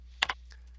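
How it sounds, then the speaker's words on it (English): A computer keyboard is typed on briefly, giving two sharp close key clicks in quick succession and then a faint third tap over a steady low hum. "I can just start typing"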